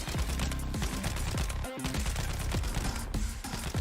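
Rapid bursts of Uzi gunfire from a VR video game trailer rattle continuously and loudly, dense and overlapping shots with a brief gap near the middle.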